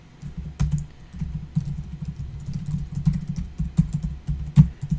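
Typing on a computer keyboard while writing code, with steady bursts of close key clicks and occasional louder strokes over a low background hum, no talking.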